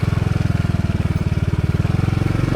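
A heavy motorcycle engine thuds along at a steady, rapid low pulse, close and loud, while the rider picks his way along a slippery, moss-covered concrete mountain road between San Nicolas and Itogon.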